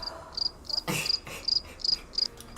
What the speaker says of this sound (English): Not the crickets, Porsha.